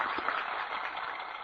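A theatre audience applauds in a steady, even wash of clapping that stays at one level for a moment, with no voices over it.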